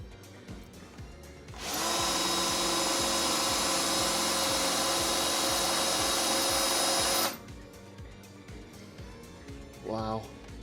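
A power drill spins a dull drill bit into a workpiece in a garage, one steady, loud whine lasting about five seconds before stopping, with quiet background rustling and a brief voice afterward.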